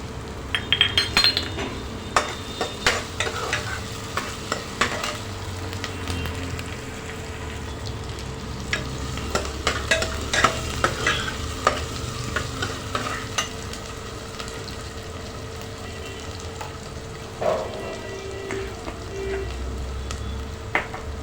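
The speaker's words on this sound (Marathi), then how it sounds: "आपण आता यात बटाटे घालणार आहोत" Potatoes frying and being stirred in a pan for a Marathi-style soaked peas and potato bhaji, with a steady sizzle underneath, repeated scrapes and clinks of a spoon against the pan, and occasional louder knocks.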